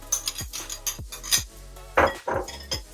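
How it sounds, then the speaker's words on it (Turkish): Yogurt being scraped out into a deep bowl for a pasta salad, with a string of sharp, close clinks and taps of a spoon against the dish and a couple of duller knocks. "Yoğurdumuzu derin bir kaba boşaltalım."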